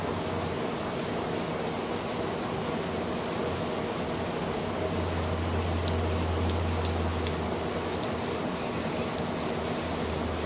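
A continuous hissing spray from an aerosol paint can, close and steady, with brief pauses in the high hiss as the nozzle is released and pressed again.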